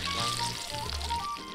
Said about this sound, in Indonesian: Terus weh digoreng dengan api sedang biar nggak cepat gosong.